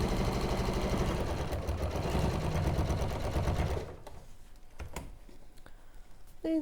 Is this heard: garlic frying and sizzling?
no